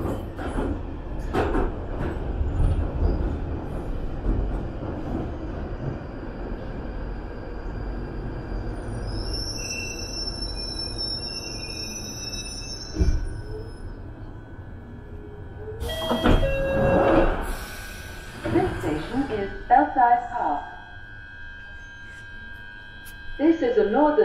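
Inside a London Underground Northern Line train near Belsize Park, a steady low rumble and hum carries on as the carriage runs, with high electrical whines, clunks, door sounds and brief announcement-like voices toward the end.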